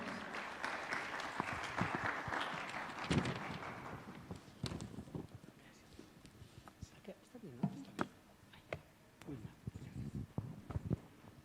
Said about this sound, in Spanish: Lo recibimos con fuertes aplausos al pastor.